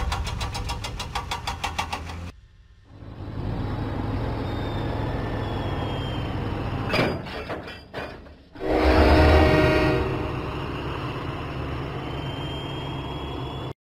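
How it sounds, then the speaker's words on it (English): Cartoon diesel train engine rumbling steadily along the track, with a steady engine drone, a brief cut and a louder surge of machinery near the end, no talking. "Diesel set out for Knapford Station."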